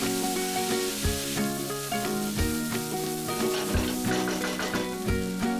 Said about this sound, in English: and fry this for about 2 minutes.